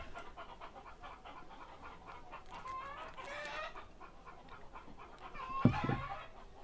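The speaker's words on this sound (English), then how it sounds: "Why are those chickens clucking?" Chickens clucking near an evacuated-tube solar hot water setup, several soft bursts of clucks over steady background noise, with one sharper, louder cluck toward the end.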